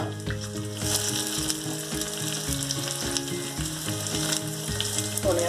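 Mustard seeds, garlic, ginger and coriander seeds fry in oil for a jackfruit masala curry, a steady close sizzle running under tuneful background music.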